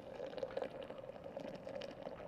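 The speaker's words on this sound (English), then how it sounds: "I'm just going to pour water in here until that scale reads 800 grams" Water pours steadily into a French press over ground coffee on a scale, a close, continuous trickling splash lasting a couple of seconds with no talking.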